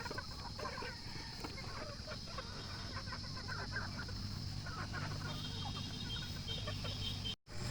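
Gamefarm chickens cluck in a range area around feeding troughs, a steady, faint chorus of overlapping calls with a brief dropout near the end.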